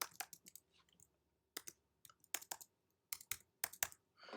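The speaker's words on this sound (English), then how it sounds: "I am typing my password which we typed at that time" A password is typed on a computer keyboard in quiet, close clicks. Keystrokes come in small irregular clusters with brief gaps between them.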